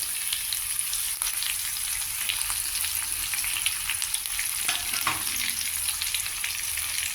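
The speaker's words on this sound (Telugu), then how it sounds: "పోపు వేగింది దీంట్లో ముందరగా కట్ చేసి పెట్టుకున్న పచ్చిమిరపకాయ ముక్కలు కట్ చేసి పెట్టుకున్న అల్లం ముక్కలు" Chopped green chilli and ginger pieces fry in a hot oil tempering, a steady close sizzle with scattered crackles and a couple of brief stirring knocks, with no voices over it.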